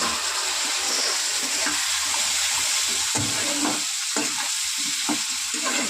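Shrimp and taro curry frying in a pan with ginger paste, ground spices and tomato, as a little hot water goes in, giving a loud steady sizzle and hiss with stirring scrapes throughout, no voices.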